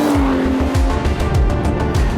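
Mercedes-AMG 6.2-litre V8 of nearly 600 horsepower roaring loudly and continuously up close, with repeated rising rev sweeps and brief tyre squeal over a dense, steady engine drone.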